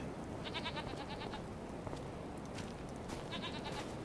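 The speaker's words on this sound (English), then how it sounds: "so the goats have a bit of food." Goats bleat in a few quavering bursts in Farming Simulator 25, moderately close, over a steady background hiss.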